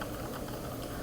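Quick keystrokes on a computer keyboard as administrator login credentials are entered, a short, soft burst of clicking.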